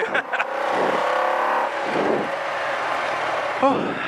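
A rally car accelerates hard on a special stage of the 2021 South Estonia Rally, its engine note rising and falling through gear changes from inside the cabin, with a co-driver's voice briefly heard.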